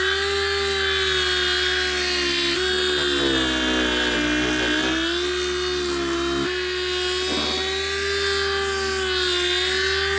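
A power sander works 1500 grit wet-sanding disc over the car paint of a V8 manual E39 BMW, a steady, loud, high-pitched electric whine that runs throughout with slight shifts in pitch as pressure changes.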